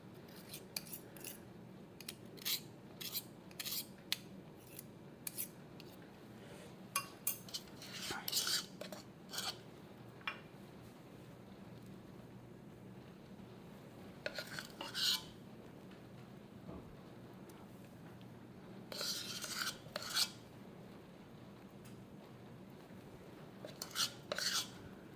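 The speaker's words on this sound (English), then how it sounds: "now all I'm going to do is spoonfuls of topping on the peaches" Cobbler topping is spooned onto peaches in a baking dish, with soft scattered clinks and scrapes of a spoon against the dish amid quiet pauses.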